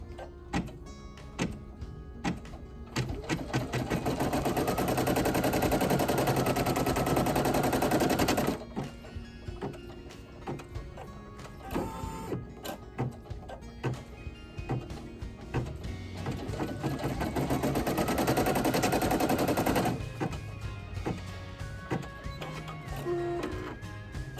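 A Brother PE800 embroidery machine stitches an applique with rapid mechanical needle rattling, running in two long loud bursts separated by pauses and lighter clicking.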